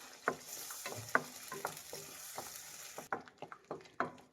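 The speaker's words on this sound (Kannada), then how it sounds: "ಹುರಿದ್ಬಿಟ್ಟು ಆ ಮಸಾಲೆ ಹಾಕ್ತಾ ಇದ್ದೀನಿ. ಇದನ್ನು ಫ್ರೈ ಮಾಡಿ." Ground tomato and onion masala paste frying in a pan for almond chicken gravy, soft sizzling under repeated spoon scrapes and clinks in an uneven rhythm, no voices.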